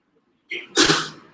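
A single sharp sneeze, a quick inhale followed by a loud explosive burst, close and alone.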